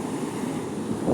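Stormy Black Sea surf rolls against the Sudak embankment, a continuous rough wash of waves with wind buffeting the microphone, growing louder toward the end.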